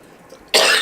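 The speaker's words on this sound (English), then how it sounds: "I'll cough my assent." A single sharp cough bursts out close and loud after a moment of quiet room tone in a school committee meeting.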